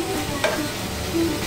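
A potato and kofta mixture being stirred in a hot pan for a tortilla, with a constant sizzle and soft scraping, close and steady over a short stretch.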